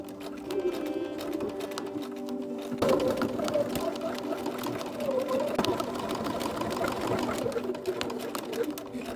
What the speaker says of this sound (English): Now stitch where we just pinned from here all the way over to the other side